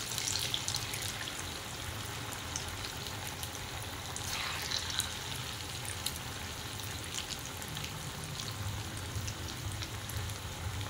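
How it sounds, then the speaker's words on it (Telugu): Punugulu batter fritters frying in oil on a medium flame, a soft continuous crackle and fizz at low volume with occasional brighter pops, steady throughout with no talk. "దీన్ని మీడియం ఫ్లేమ్లో పెట్టి వేయించుకుందాము"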